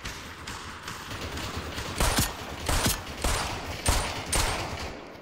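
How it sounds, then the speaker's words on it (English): Bursts of rapid gunfire in the VR shooter game Population: One, several loud volleys spaced a second or so apart over a constant background hum, with no talking. "Now they're shooting at me."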